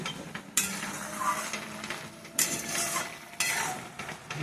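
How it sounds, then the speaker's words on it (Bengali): Black taro stalks cooking with chickpeas in a pan, a soft steady simmer broken by three sharp clanks of a utensil against the pot, with no talk. "এখানে বসিয়েছি কালা কচুর ডাঁটা ছোলা দিয়ে"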